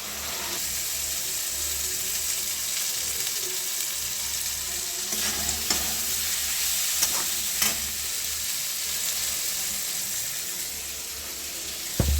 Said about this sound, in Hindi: जीरा अदरक लहसुन का पेस्ट डालेंगे। इसको अच्छे से फ्राई करेंगे।